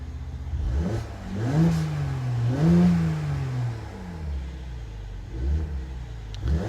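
Engine of a 2017 Mercedes-Benz SL 450 Roadster revving, several rising and falling revs from a deep idle, close and fairly loud with a rumbling exhaust note.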